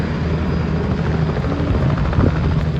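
Tour helicopter starting up for a ride in Orlando, a loud, continuous rotor and engine drone, close by and unchanging, with no voices.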